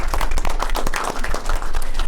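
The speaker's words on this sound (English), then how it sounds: "a big applause to all of them" An audience at a business roadshow for the Intra-African Trade Fair in Dubai gives loud, close applause with distinct individual claps that swells, dips briefly, then picks up again.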